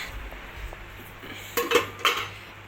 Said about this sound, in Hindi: अब दाल को ढक देते हैं, सब्जी को ढक देते हैं।